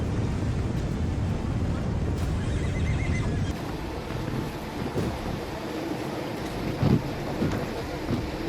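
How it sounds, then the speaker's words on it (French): Thousands of horses at the Celestial Horse Festival in Xinjiang, a loud dense mass of neighing and hoof noise outdoors with wind buffeting the microphone, calming somewhat after about three and a half seconds, with a voice talking over it. "ce sont des milliers de chevaux lors du festival du cheval céleste au Xinjiang"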